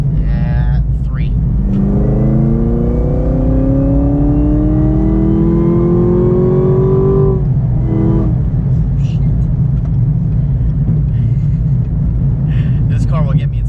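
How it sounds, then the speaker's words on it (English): A Camaro ZL1 engine revs hard in third gear, its supercharger whine climbing steeply in pitch for several seconds before cutting off, then a brief second rev. "that supercharger is so loud"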